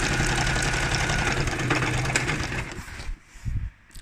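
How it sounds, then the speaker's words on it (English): A Singer Start household sewing machine stitching through a single layer of heavy-duty canvas, a loud, fast mechanical whirring and rattling run that slows and stops near the end with a few brief knocks. "that's with a normal sewing machine, a Singer Start, going through one layer of canvas, heavy duty."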